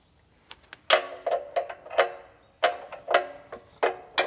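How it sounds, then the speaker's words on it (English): A wrench snugs up the oil drain plug of a zero turn lawn mower with a run of sharp, close metallic clicks and ratcheting ticks in uneven bursts against a quiet background. "We'll go ahead and reinstall our drain plug here. Take our wrenches and we'll snug it up."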